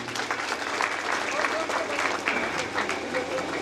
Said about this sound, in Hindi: आप लोग अपने लिए एक जोरदार ताली बजा लीजिए।